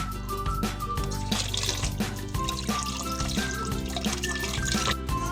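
Fatty meat for sinigang is rinsed under running water, which splashes and trickles steadily with wet, bubbly drips and pours close by, without talk.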